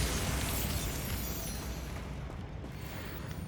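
Bombarda explosion spell in Hogwarts Legacy, a loud dense blast roaring across the whole range, holding as a sustained rumbling burst and slowly thinning into crackling debris.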